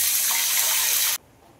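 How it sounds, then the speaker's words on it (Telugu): Water pouring into a pan for cooking, a steady close gushing stream that cuts off abruptly, leaving quiet room tone. "నీళ్ళు పోసుకోవాలి."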